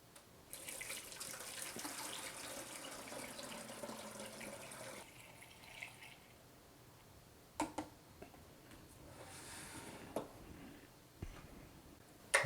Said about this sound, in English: we can now go ahead and add in the first of our bottles of